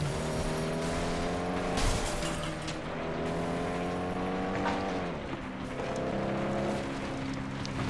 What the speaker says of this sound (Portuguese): Caramba, olha os carros se matando ali